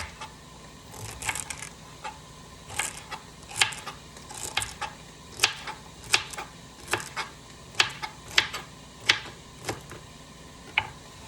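Hodgepodge soup simmering in a pot in a home kitchen, giving quiet, irregular popping and ticking bubbles every half second or so over a faint background, with no voices.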